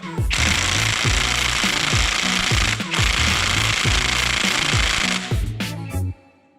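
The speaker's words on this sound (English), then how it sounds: "Now I'm gonna hit this with a 1/2 inch impact and a 10 mil" A half-inch impact wrench with a 10 mm socket hammering on a Subaru STI head stud in two long rattling bursts of rapid blows, close and loud, stopping abruptly near the end.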